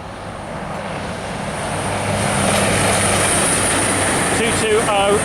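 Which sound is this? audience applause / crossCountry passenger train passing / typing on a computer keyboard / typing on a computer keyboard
crossCountry passenger train passing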